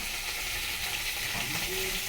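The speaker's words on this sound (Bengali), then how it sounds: "কষাতে থাকি।" Spices being sautéed and stirred in a pan over a gas flame give off a steady, fairly loud hiss and sizzle that fills the whole moment, with a faint tonal whine briefly rising near the end.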